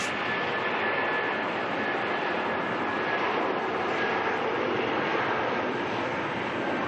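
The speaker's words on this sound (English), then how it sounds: "NZ 567's on the runway at the moment, heading off to Christchurch." An Air New Zealand jet departing for Christchurch roars on the runway at night, a steady, loud, broadband engine rumble with a faint whine, heard from nearby without pause.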